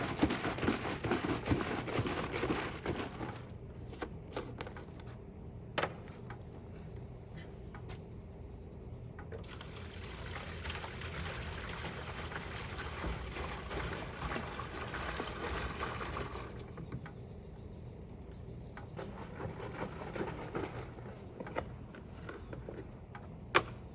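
Water gurgles and pours into a hollow plastic sprayer tank, with plastic knocks and sloshing, rising and falling in bursts amid quiet handling noises.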